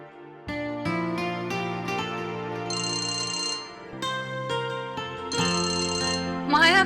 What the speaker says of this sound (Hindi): माया का फोन, गुड टाइमिंग।